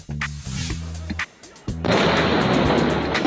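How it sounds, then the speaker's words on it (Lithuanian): A sharp blast bursts in after a few low tonal hits, followed by a loud, sustained roar of debris and rumbling noise, from the port city explosion in Tianjin, China. "Miestą sudrebino 2 sprogimai"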